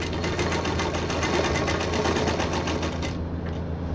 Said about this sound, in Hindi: अभी हम सुई तक इसकी सिलाई कर लेंगे तब सुई हटाएंगे।